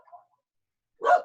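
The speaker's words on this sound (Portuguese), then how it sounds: "Desculpa os cachorros" Dogs barking nearby, one short, loud burst of barks near the end after a faint, brief sound at the start and a stretch of silence.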